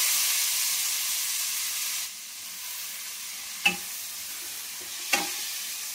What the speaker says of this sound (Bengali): পেঁয়াজটাকে ভালোভাবে ভাজি করে নিই।